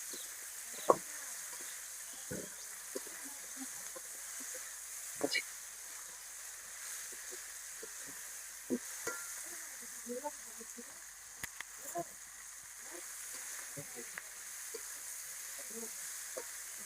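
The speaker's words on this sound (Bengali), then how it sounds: "মাছ মশলার সাথে কষিয়ে নিলাম" Fish being cooked down with spices and green chillies in a pan for a tomato tok, a faint low sizzle under scattered soft clicks and scrapes of stirring, quiet and intermittent.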